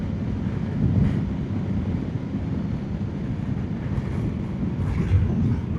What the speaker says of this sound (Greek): Φυσάει λίγο παραπάνω, αλλά είναι τόσο όσο.